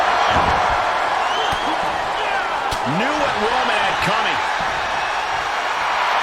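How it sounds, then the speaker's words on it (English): A wrestling arena crowd roars loudly and steadily throughout a Hell in a Cell match, with a commentator talking over the din. "The sound of this crowd is deafening, and he's asking for more."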